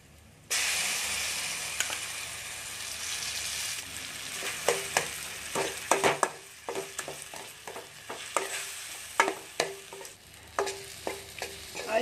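Smashed brinjal being stirred into a chutney in a hot pan: a steady sizzling hiss is broken by a quick run of sharp scraping clinks from the spoon, loud and close, with no talk.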